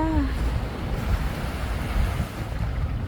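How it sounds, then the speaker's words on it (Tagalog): Ocean surf rolls in at a quiet, deserted stretch at the far end of Boracay Island, a steady broadband wash of waves mixed with wind buffeting the microphone and no voices. "Alon lang talaga ang maririnig mo dito."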